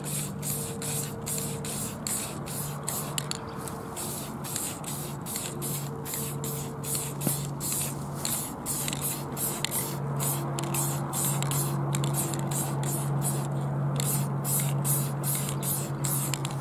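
Spray paint hissing steadily for several seconds, laid on in light coats over masking tape on a DIY DM screen project, a continuous close airy spray with a faint low hum beneath and no talking.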